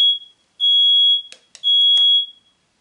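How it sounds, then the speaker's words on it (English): A smoke detector goes off in a workshop where a mini forge is being built, giving two long, loud, shrill high beeps with short gaps between them and a few brief knocks in between. "the fire detector is going off"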